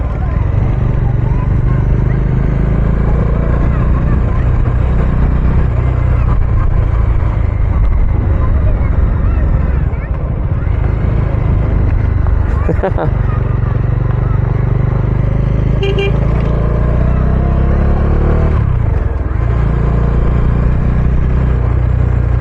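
Heavy rain pours during a monsoon motorcycle ride to Dategad Fort in May, a dense, steady roar of rain and wind noise filling the scene, with occasional clatter and voices under it.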